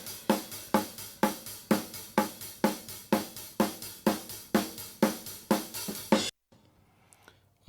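Overhead microphones on a drum kit panned hard left and right, mixed for a rock sound, catch about fifteen steady, evenly spaced cymbal-heavy hits with ringing wash, then stop abruptly into near silence.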